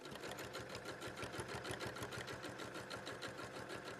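Sewing machine running: a steady rapid mechanical whir with fast rhythmic needle ticking, continuous and even at low level throughout.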